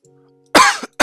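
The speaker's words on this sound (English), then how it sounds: "but it just came out as cough" Two sharp, loud coughs from a person playing Minecraft, close to the microphone, a double-burst cough followed quickly by a second.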